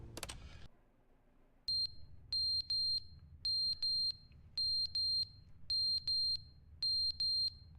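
A smoke alarm in The Stanley Parable video game sounds loud, shrill paired beeps in a steady repeating rhythm over a low hum, after a short burst of noise at the start.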